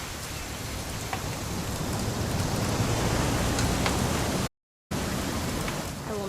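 Steady rain falls in the video game What Remains of Edith Finch, a dense even hiss of drops with a brief dropout near the end.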